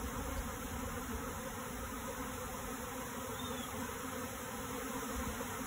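A swarm of honeybees drones in a constant, close buzzing hum during a swarm capture, steady throughout with no voices.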